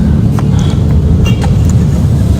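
Cars in road traffic give a continuous, loud engine and tyre rumble, close and unbroken, with faint brief sounds above it.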